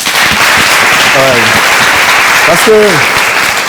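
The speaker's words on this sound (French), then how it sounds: "Je veux qu'on applaudisse ce garçon." Sustained applause from a studio audience on a French talk-show set, a steady dense wash of clapping throughout while a voice talks over it.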